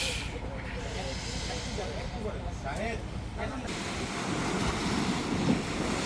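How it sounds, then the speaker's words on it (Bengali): Continuous rushing hiss of sea waves washing ashore at night on Saint Martin's Island, Bangladesh, swelling louder toward the end, with people talking faintly underneath. "সমুদ্রের শব্দ, পানি খুব সুন্দর"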